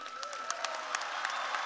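Applause from a commencement ceremony audience for the keynote speaker, a steady wash of many hands clapping in a large hall, moderately loud and continuous.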